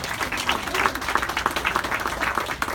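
Crowd at an Arc Thrift Store ribbon cutting claps for Longmont police and fire department members, steady mid-level applause with a few voices mixed in.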